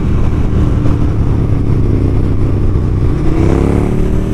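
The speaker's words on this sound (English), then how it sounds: "as soon as you just whack the throttle, you get an instant rush of torque. And you get that awesome sound" A motorcycle engine runs loud and close, its throttle opened for a sustained rev with a steady mechanical roar and clatter that rises slightly in pitch toward the end, with no talk.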